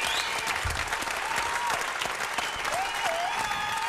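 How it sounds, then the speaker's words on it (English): Round of applause from a crowd at a hip-hop talk event, sustained dense clapping with a few cheers, moderately loud, while a voice carries on faintly underneath. "Round of applause, Upstate New York."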